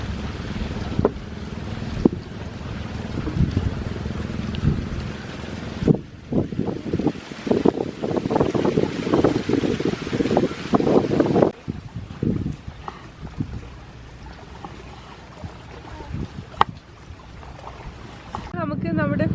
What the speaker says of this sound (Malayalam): നല്ല കാറ്റുണ്ട്, നല്ല മഴയൊക്കെ വരുന്നുണ്ട്